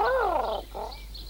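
A cartoon character's voice imitates a pigeon's call in a short, loud, warbling coo that rises and falls, with a second, softer coo following a brief pause.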